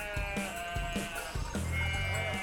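Several sheep bleat in a repeated, quavering series close by, with a few overlapping calls and a steady background din of a farmyard gathering in a Greek town where the animals are herded for blessing and milking.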